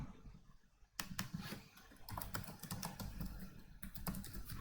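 Computer keyboard typing while coding an HTML/CSS web page: steady bursts of quick, close key clicks with brief pauses, fairly soft and alone without speech.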